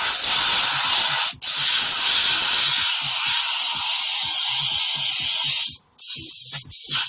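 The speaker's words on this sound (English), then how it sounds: "I'm actually spraying this quite hard because I want it to, because the pearl colour sometimes is gets a bit sticky" Airbrush spraying pearl paint at fairly high pressure, a loud steady hiss running almost continuously with a few brief cutoffs and soft taps underneath.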